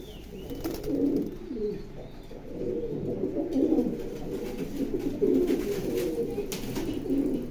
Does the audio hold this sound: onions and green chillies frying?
no